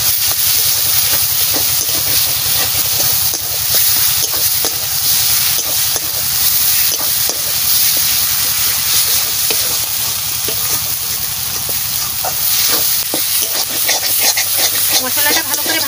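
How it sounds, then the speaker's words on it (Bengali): A spice paste with a little Kashmiri chilli fries in a pan before duck meat is added, giving a loud, steady sizzle throughout with repeated scraping stir strokes and no talking. "মশলাটা ভালো করে ভাজা করে তারপরে মাংস দেবো"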